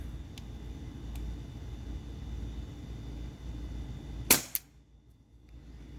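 A single sharp shot from a CO2 air pistol, a T4E .43 caliber Glock 17 Gen 5, cracks out, followed quickly by a second smaller snap, over a quiet outdoor hum of distant background noise.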